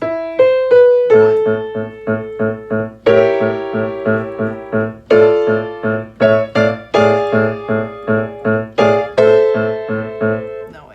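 Piano right hand plays the C section of Für Elise, with repeated driving notes and short rising runs in a steady pulse, close and bright with no talking.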